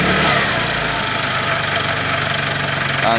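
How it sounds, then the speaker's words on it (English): An engine idles steadily with a dense, buzzing rattle from a loose exhaust running through it, close and continuous, with no one talking. "There is a rattle down here that annoys me."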